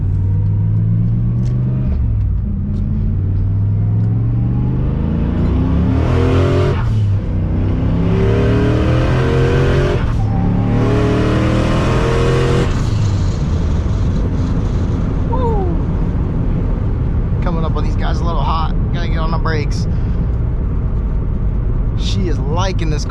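A turbocharged car floored on a cold day, engine droning loud and close as it accelerates hard through several gear pulls with rising harmonics, then settling back while traffic noise continues.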